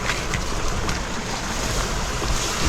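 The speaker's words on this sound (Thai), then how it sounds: "น้ำไหลอย่างนี้เลยนะครับเห็นไหม" Steady rushing water noise fills the clip, broad and continuous like a flowing stream, with some wind buffeting the microphone.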